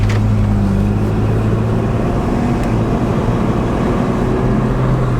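BMW Z4 pulling out onto a street at night, a steady close engine drone with low harmonic hum and road noise throughout, no voices.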